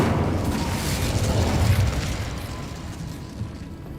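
A fiery spell blast in the video game Hogwarts Legacy, a loud booming burst with a rumbling low roar that swells and then slowly tapers away over a few seconds.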